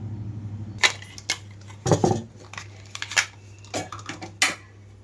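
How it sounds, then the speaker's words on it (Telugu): A mixer grinder jar is picked up and set down, with light clinks and clacks of hard kitchenware over a low steady hum. "ఇప్పుడు ఇది మిక్సీ జార్ తీసుకుంటున్నాను"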